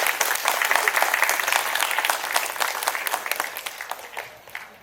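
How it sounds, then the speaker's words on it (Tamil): A church congregation at a feast Mass applauds in a dense, sustained burst of clapping that fades toward the end, with a little crowd murmur. "அவர்களுக்கு ஒரு சிறந்த ஒரு கைத்தட்டை நீங்கள் வழங்குமாறு அன்புடன் கேட்டுக்கொள்கிறேன்."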